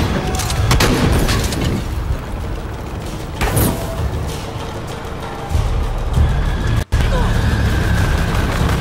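Several loud gunshots from the video game Shadow of the Tomb Raider, sharp bursts spread across a dense, noisy background with some speech mixed in.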